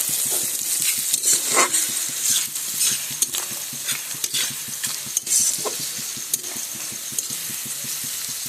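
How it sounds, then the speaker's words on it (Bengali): Nigella seeds, bay leaves and chopped onion sizzle steadily in hot oil for a Bengali spicy fish curry, with repeated close scraping and stirring strokes of a spatula against the pan and no talking. "কালো জিরা তেজপাতা আর পেঁয়াজ কুচি একটু লাল লাল করে ভেজে নিলাম"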